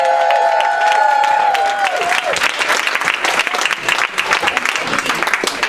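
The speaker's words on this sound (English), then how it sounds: "Let's hear another round of applause for our artists" An audience applauds the artists at a women's songwriting event in Boise. A sustained held tone fades out in the opening seconds, and dense clapping continues loud and crackling to the end.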